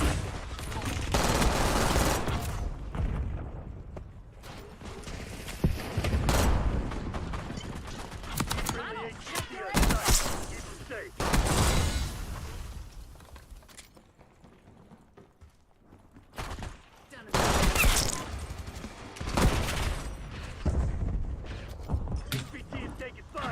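Bursts of rapid gunfire crackle through a chaotic video game firefight, heavy volleys coming in waves with brief lulls, under a game voice and player chatter.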